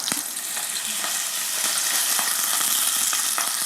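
Chicken pieces frying in oil in a large saucepan over the heat, giving a steady, close, loud sizzle with small crackles and pops throughout.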